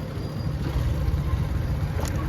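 Low, steady engine drone of a combine harvester running nearby in a field, constant and unbroken, with no voices.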